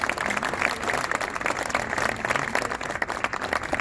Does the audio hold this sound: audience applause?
yes